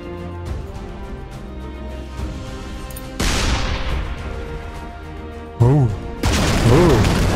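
Artillery shells from ShellShock Live slam home as booming impacts with long crashing decays, a couple of heavy hits layered over an ongoing game soundtrack, followed by a warbling whistle-like effect.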